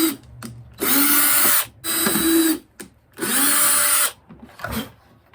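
A power drill bores holes for a roll cage on an ARRMA Outcast 8S RC car, three loud whirring bursts of about a second each, separated by short pauses with small handling clicks between.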